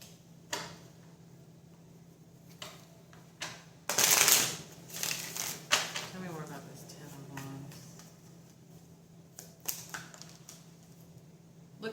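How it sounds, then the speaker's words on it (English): Tarot cards shuffled by hand, a burst of riffling and flicking around the middle with scattered light taps before and after, over a steady low hum while a person talks. "And y'all saw me just shuffle,"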